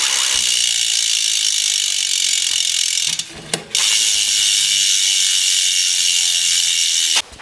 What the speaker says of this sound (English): the paw engagement sounds really good out the box.